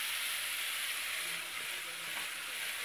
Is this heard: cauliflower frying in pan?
yes